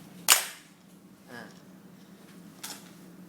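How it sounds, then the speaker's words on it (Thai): A Classic Army G36C electric blowback airsoft rifle's bolt snaps back with one sharp close metallic crack, followed by softer mechanical clicks. "นี่ครับถ้ากดปุ๊บ ตัวนี้นะครับก็โบก็จะดีดกลับคืนไปนะครับ"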